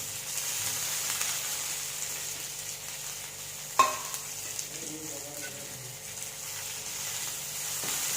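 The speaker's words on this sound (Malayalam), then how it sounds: "അപ്പോൾ നമുക്ക് മുളകും വേപ്പിലിട്ട് കൊടുക്കാം." Chillies and curry leaves sizzle in hot oil for Kerala sambar, a steady close frying hiss with a single clink of a utensil partway through and no talking.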